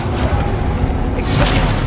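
Incendio fire spell cast in Hogwarts Legacy, a dense, steady rushing roar of flame that fills the whole moment at a strong, even level with no voices.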